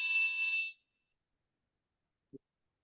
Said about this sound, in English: Press the second button, it turns on the manual alarm.